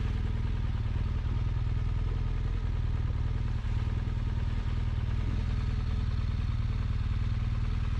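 A BMW GS motorcycle rides off paved roads on a messy track in Luxembourg, its engine a steady, close drone with a light mechanical clatter throughout and no talking.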